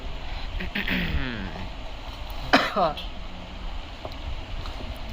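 A short, sharp cough bursts out midway through mumbled talking, against a steady background hiss.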